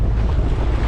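Wind and waves on open water off the southern tip of Lasqueti Island, steady loud blustery rumble with wind buffeting the microphone and surf washing underneath, close and continuous.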